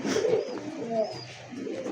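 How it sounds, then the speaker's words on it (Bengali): A pink-beaked pigeon at a pigeon seller's coos in soft, throaty, rolling phrases, close by and fairly quiet, with no talking. "গোলাপি ঠোঁটের কবুতর ভাই"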